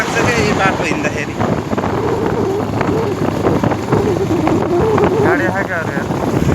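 Strong wind buffeting the microphone while riding a motorbike along an open road, a loud, continuous rushing roar with voices talking underneath.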